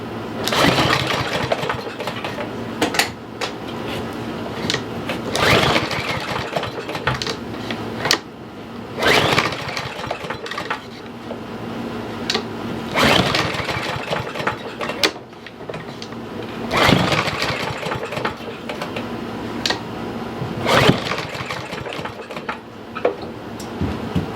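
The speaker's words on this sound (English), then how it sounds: "So we're going to give it a few tugs and see if we can get it to fire over." A Troy-Bilt lawn mower engine with a bad carburetor is yanked repeatedly with a pull cord, each tug giving a quick whirring rattle that fails to catch, with a pause between pulls.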